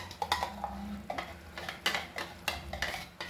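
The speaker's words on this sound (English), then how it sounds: "So we'll mix this nicely." A spoon stirs almond and cashew paste into a simmering pot of Goan cafreal potato dal, producing soft repeated scrapes and light knocks against the pot with a faint bubbling beneath, close by and without talk.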